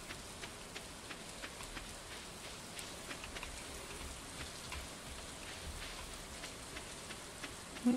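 Soft, steady rainfall from the farming game Stardew Valley, a faint continuous patter of drops with light ticks scattered throughout and no voices.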